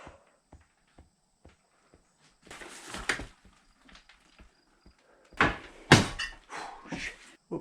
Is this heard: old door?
yes